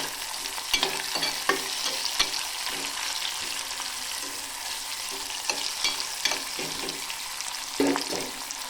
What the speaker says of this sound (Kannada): ಇದು ಉಳ್ಳಾಗಡ್ಡಿ ಎಣ್ಣೆಯಲ್ಲಿ ಫ್ರೈ ಮಾಡ್ಕೋಬೇಕು.